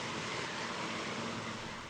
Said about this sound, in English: The helicopter now flies over the fire.